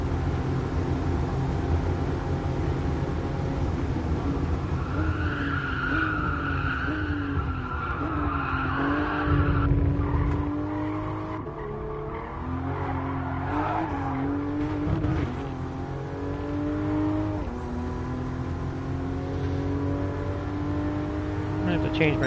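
Toyota GR Supra race car in GT Sport at Fuji, engine droning and revving continuously through gear changes with tire squeal, steady and loud for the whole stretch while someone talks over it.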